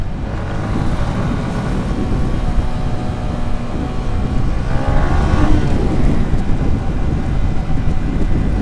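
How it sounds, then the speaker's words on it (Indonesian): A motorcycle engine is pushed to high revs in second gear while riding, giving a loud, continuous roar mixed with heavy wind buffeting that swells slightly midway. "aku sengaja mau cari celah buat narik gas di RPM yang tinggi buat mengetes apakah bergetar mesinnya dari gigi 2 ini"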